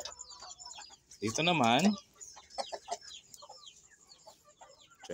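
Hens and roosters, including Rhode Island, Jersey Giant and Silkie birds, cluck nearby, with one loud drawn-out squawk early on and scattered short clucks around it, while someone talks quietly over them.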